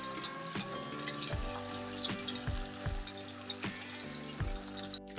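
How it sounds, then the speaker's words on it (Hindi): Chili chicken fries in a pan over a medium-low flame, giving a steady close sizzle broken by periodic soft knocks and scrapes of stirring. "चिकन हमारी अच्छे से फ्राई हो चुकी है।"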